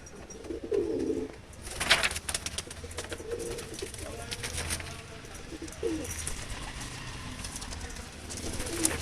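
Madras pigeons in a loft coo in low, soft bursts, with a scuffle or flutter partway through and steady background noise around them.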